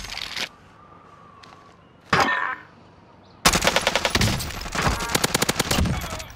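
Video game gunfire: a few separate loud sharp shots, then a sustained rapid automatic burst of rhythmic cracks close by, with no voices.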